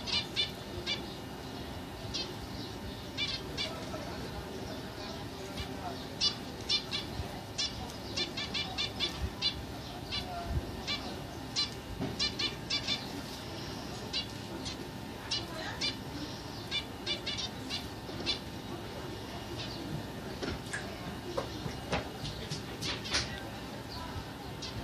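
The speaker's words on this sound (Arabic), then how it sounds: "صوت يا جماعة عصفور الزبرة يعني بحبه جدا" Zebra finches chirping and singing in a steady busy chorus of short, high, nasal calls repeated throughout, fairly close, with a constant background hiss and no talk.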